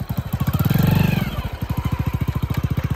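A small motorcycle engine runs with its tyres removed, chugging in a rapid, steady putter that is loud and close, swelling briefly before settling back into an even rhythm.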